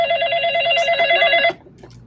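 A telephone rings with a bright electronic warble, steady and fairly loud for about a second and a half, then cuts off to a quiet room.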